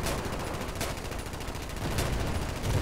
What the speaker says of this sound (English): I just heard an A-10 strafe